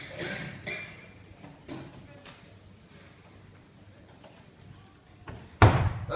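A door slams loudly at the back of a room during a book launch event, a single sharp bang standing out from quieter room murmur and earlier soft thuds.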